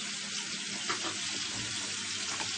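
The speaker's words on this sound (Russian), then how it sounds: "Теперь берем сковородочку и обжариваем на смеси сливочного с подсолнечным маслом." Fish frying in a pan in a mix of butter and sunflower oil, giving a steady, close, continuous sizzle and crackle throughout with no talking.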